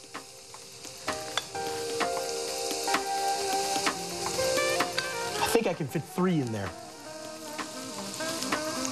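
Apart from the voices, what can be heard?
pancake batter sizzling in oil and butter in a pan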